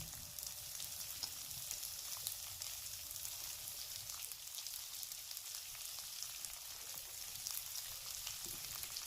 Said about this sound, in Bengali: এবার পেঁয়াজ দিয়ে দেবো, একদম ছোট ছোট করে কেটে রাখা পেঁয়াজটা এটা আমি দিয়ে দেবো।